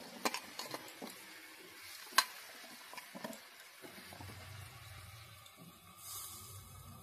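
Potatoes tipped into a hot pan for an egg and masoor curry, with a few clattering knocks at first, then a soft, steady sizzle and stirring.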